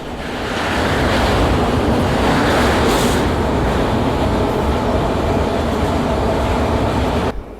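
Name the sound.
Rajdhani Express train crossing Bogibeel rail-road bridge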